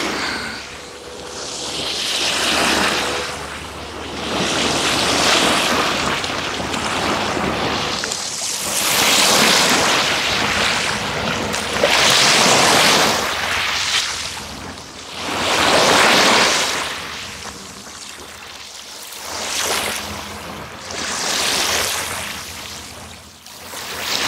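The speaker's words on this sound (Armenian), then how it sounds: "Քամիչկա է, զարմանալի է։" Wind sweeps the shore of Lake Sevan in loud, rolling gusts that swell and fade every few seconds, roaring against the microphone with no voices.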